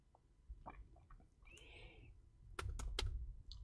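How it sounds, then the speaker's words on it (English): An email address is typed on a computer keyboard, a quiet run of close, irregular key clicks ending in a few louder taps, with no talking. "I'll type here"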